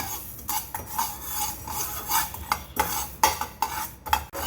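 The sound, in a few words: roasting fenugreek seeds in a pan, stirring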